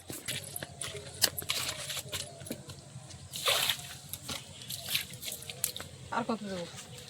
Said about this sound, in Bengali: আমি জায়গাগুলো একটু জল দিই